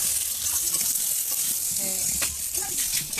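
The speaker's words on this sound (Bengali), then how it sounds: "শাকটা ভাজছে আর আলুটা এখন ভেজে নিচ্ছে" Greens and potatoes fry in a pan with a constant loud sizzling hiss and some stirring, while a voice talks faintly beneath the frying.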